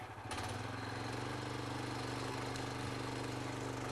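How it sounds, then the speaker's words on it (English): A forestry winch pulling in a log kicks in with a sudden start, then runs as a steady engine drone with a throbbing, buzzing tone and occasional faint clanks. "And now we winch in the log."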